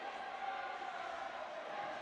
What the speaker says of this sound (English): This crowd's fired up.